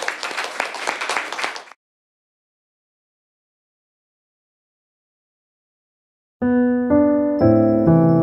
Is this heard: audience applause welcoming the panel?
yes